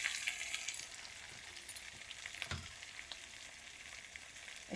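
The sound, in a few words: potatoes frying in a pan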